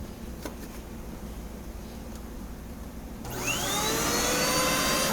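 After a repair, a Hoover Windtunnel 3 vacuum cleaner switches on following a few quiet handling clicks, its motor rising quickly into a loud, steady high-pitched whine and roar.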